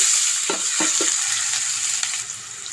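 Onions frying in hot oil with cinnamon and cloves for a kandana kaya curry, a steady close sizzle broken by a few sharp stirring scrapes early on, no talk.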